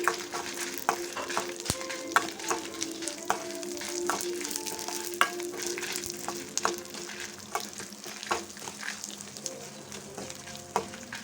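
Dried red chillies, garlic cloves and coriander seeds fry steadily in a pan for Telugu pachadi, giving a continuous close sizzle with scattered crackles, pops and scraping stirs throughout, with no talking.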